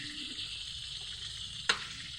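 Pork fries in a pan with a steady, soft sizzle that hisses on evenly, and one brief sharp crackle pops out near the end.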